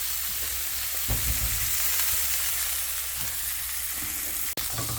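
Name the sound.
burger patty cooking in a pan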